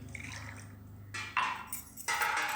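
Hot water pours into a glass in splashy bursts of gurgling liquid, preceded by a low steady hum, close and fairly loud.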